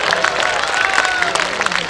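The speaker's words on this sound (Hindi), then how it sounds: "दोनों हाथ उठा ताली बजा।" Audience clapping at a Hindi kavi sammelan comedy poetry recital, a steady dense patter of hands with crowd noise, fairly loud throughout and mixed with murmuring voices.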